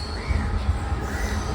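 A train pulls into Cuttack station. There is a heavy low rumble of the carriages with faint high wheel squeal over a steady, loud roll.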